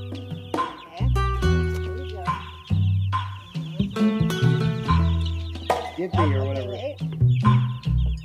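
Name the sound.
chicken clucking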